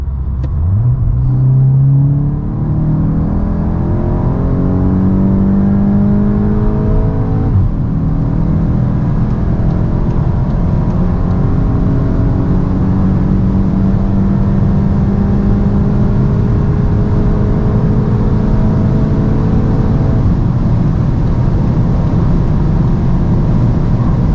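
A stock Volkswagen Golf 8 GTI with the factory 245 hp engine accelerates hard from 100 to 200 km/h. Its loud, sustained engine drone climbs steadily in pitch, with clear drops at the gear shifts, and nobody speaks.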